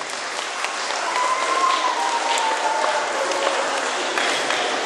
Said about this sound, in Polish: i wielkie brawa dla niej